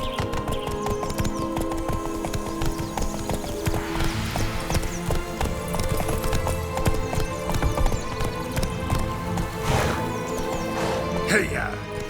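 Hooves of Roach, the horse in The Witcher 3, clip-clop steadily throughout at a quick rhythm, mixed with game music, ambient sound and a horse whinny, while voices talk over it.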